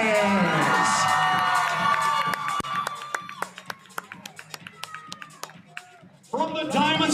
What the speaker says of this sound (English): And keep your applause going.